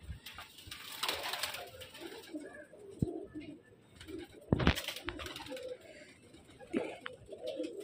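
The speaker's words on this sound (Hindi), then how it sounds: "खासकर ये जो आपको कबूतर दिखा रहा हूँ" Soft pigeon cooing with rustling and a few sharp knocks, nearby birds murmuring over low background noise.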